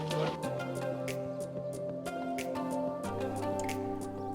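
Quick wet lapping and dripping sounds close by, as a dog drinks over a steady background of music-like tones.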